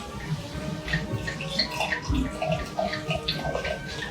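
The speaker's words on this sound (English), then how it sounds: "And then when you pour, remember it's carbonated. So you want to tip your glass." Sparkling wine splashes and fizzes as it pours into a tipped glass, bubbly and close, with faint clinks and gurgles.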